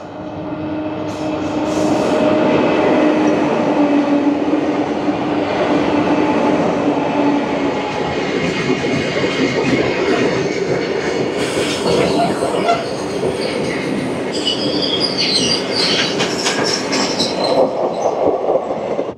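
A heavy freight train with three locomotives rumbles past steadily for a long stretch in Koraput, Odisha, wheels clattering with rising squeals and metallic screeching near the end.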